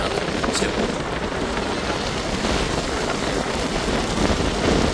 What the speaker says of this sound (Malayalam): ചെറിയൊരു മഴ.